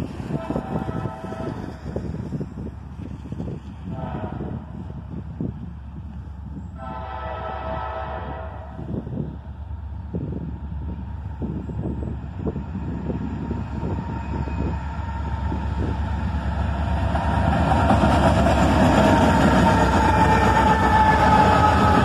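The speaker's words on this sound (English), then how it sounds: "An SD42 and an AC44CW lead a southbound manifest train" A BNSF southbound manifest train led by an SD42 and an AC44CW rolls past with a deep diesel rumble and clattering cars, brief horn blasts early on, the roar swelling louder and brighter toward the end.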